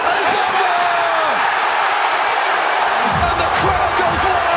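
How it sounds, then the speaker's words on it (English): A cage-fight crowd erupts, a wide wall of cheering, whoops and shouts swelling loudly from the arena with a few slams and bursts of voices rising near the end. "And the crowd goes wild!"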